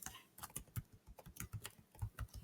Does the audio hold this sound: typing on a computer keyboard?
yes